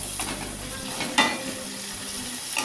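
Vegetables (beans, carrot, okra, long beans) sizzle steadily in a hot pan, with a couple of brief scrapes from stirring and no talking.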